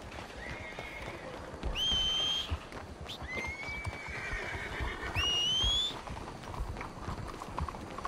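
A horse in the Red Dead Redemption 2 video game gives two loud, shrill neighs while rhythmic galloping hoofbeats clop steadily underneath, with no speech.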